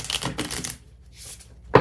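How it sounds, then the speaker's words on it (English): Tarot cards being shuffled by hand, two bursts of riffling clatter followed by a brief pause and a softer flutter, ending in a sharp tap, close and fairly loud. "feel free to fast forward through the shuffling here"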